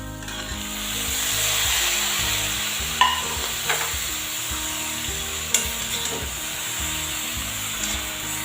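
Spinach being stirred into frying vegetables in a pan for a Bengali prawn and spinach curry, with steady sizzling under scraping spatula strokes and a few sharper clacks against the pan.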